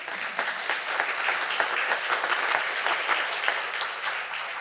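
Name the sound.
audience applause after a presentation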